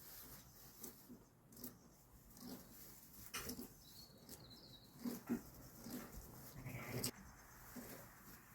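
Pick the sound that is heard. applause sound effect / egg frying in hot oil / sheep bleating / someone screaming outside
sheep bleating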